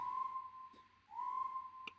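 A whistle sample played from a Kontakt library during electronic hip-hop production: two sustained, steady-pitched whistled tones with a short gap between them, clear and upfront, followed by a few quick clicks at the end.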